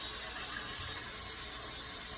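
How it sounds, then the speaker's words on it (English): Hot water poured into a pot of oxtail, a steady, even hiss and splash of liquid running continuously at close range, with no talking. "I'm gonna add in my water in my oxtail"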